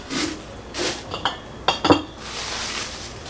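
A metal bowl and a cooking pan are picked up and set down, giving several close metallic clinks and knocks, a quick cluster near the middle, between soft handling rustles.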